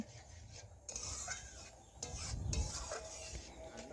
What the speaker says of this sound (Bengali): নাড়াচাড়া করে ভালোভাবে আমি ডিম মিশিয়ে নিলাম ডালের সাথে